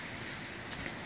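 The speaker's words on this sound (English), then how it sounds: "It's kind of like slushy, raining and snow and stuff." Steady rain patters outside amid slushy snow, a faint, even hiss with no voices.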